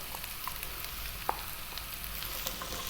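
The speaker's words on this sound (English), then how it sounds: "stir frying this around in the pan" Okra sizzles and crackles steadily as it is stir-fried in a hot pan, with occasional soft scraping as it is stirred around.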